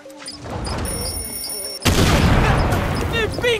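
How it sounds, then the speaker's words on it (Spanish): A door blows open in an explosion in the video game Far Cry 6, a sudden loud burst followed by dense crackling debris and gunfire-like clatter, with a voice shouting under the noise. "¿Una explosión en la puerta?"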